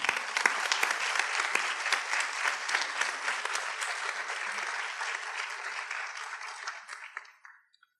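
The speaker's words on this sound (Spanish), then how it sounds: "Un aplauso para Maya." Sustained applause from an audience at an interdisciplinary panel discussion on the Bad Bunny phenomenon, steady dense clapping that tapers off and ends near the close.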